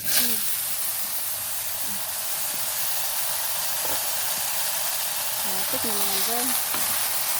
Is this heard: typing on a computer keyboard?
no